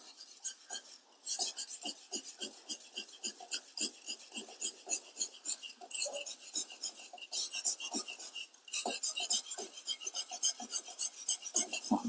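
A knife blade drawn over a medium-grit green natural whetstone from Pacitan, many quick light scraping strokes in an uneven rhythm with a couple of brief pauses, close but fairly soft, no voices.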